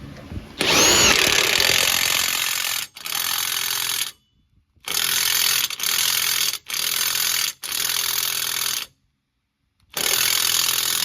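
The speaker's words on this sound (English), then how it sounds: "The nice thing about the impact gun is I don't have to keep this hub stationary." An air impact gun torques the front wheel hub nut on a Saturn Vue, firing in loud close bursts of rapid hammering separated by short pauses, with one longer gap before the final burst.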